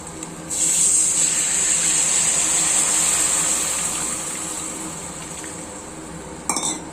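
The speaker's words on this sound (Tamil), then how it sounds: "இப்போ புளி தண்ணி ஊற்றிக்கலாம்" Tamarind water poured into a hot pot of onions for brinjal gravy sets off a loud sizzling hiss that slowly fades, ending with a brief clink of a utensil.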